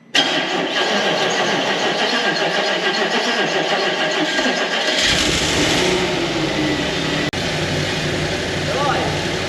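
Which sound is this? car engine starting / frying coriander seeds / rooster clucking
car engine starting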